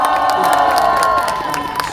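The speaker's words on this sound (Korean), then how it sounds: "다시 한번 박수." A crowd at an outdoor rally claps and cheers in a dense, loud burst of applause mixed with shouts, carrying steadily through the whole moment and fading slightly toward the end.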